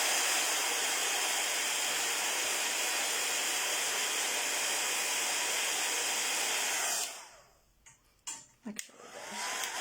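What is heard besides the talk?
heat tool drying wet paint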